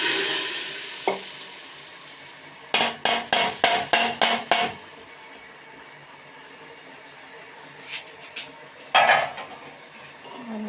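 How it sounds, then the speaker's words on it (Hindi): A spoon stirs garlic into dal in a pot in a village kitchen, giving a quick run of about six sharp metallic scrapes and clinks against the pot, then a few scattered knocks over a faint sizzle. "और हम इसमें चम्मच हिलाएंगे।"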